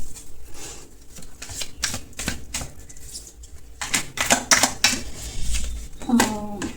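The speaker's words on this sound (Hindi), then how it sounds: "सबसे मेरा टफ काम है वो है सफलिंग करना" Tarot cards are shuffled by hand in uneven bursts of papery riffling and slapping, close and fairly loud, with a person talking over parts of it.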